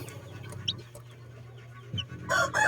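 Backyard chickens cluck softly near a room where an overheating incubator left many chicks dead, a low repeated clucking, then a louder burst of hen calls at the very end.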